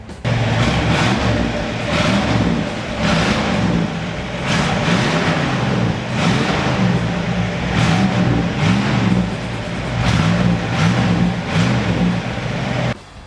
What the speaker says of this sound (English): When you rev this car,